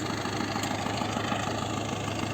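An MTZ 952.3 tractor engine pulls a four-bottom plough in a field, giving a steady, loud, continuous diesel drone with a constant low rumble and no talk over it.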